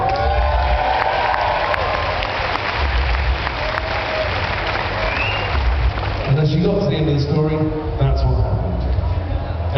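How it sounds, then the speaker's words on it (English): A festival comedy-show audience applauds steadily and loudly, a dense continuous wash of clapping from a large crowd with some cheering and voices mixed in. "Everybody clapped"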